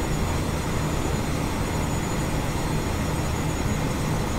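Boeing 737 jet engines in a flight simulator during a landing approach at Gatwick, a steady, loud, broadband roar with a faint low hum and no talking.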